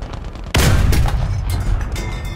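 Cannon fire from an M8 LAC armoured car in War Thunder ground battle: one loud, sharp shot with a deep rumbling tail and lingering battlefield noise, preceded by faint engine rumble.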